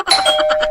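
A doorbell rings once, a short loud close electronic chime with bright ringing tones, alone without talk.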